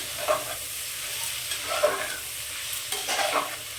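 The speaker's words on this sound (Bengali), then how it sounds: "মেথির শাকটা দিয়ে আমি এটাকে খুব ভালো করে ভাজা ভাজা করে নেবো" Fenugreek leaves (methi) fry in oil in a pan with a soft, steady sizzle, broken by several scraping strokes of a spatula stirring them at close range.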